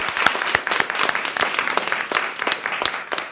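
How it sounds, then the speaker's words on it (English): An audience applauds a speaker at a conference session, a loud, even stretch of clapping in which individual claps stand out as sharp bursts. "let's give them a round of applause"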